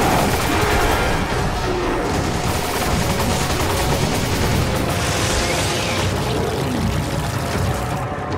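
Loud, dense, sustained gunfire fills the whole stretch in Resident Evil 5, a continuous roaring barrage of rapid shots with no pauses and no speech.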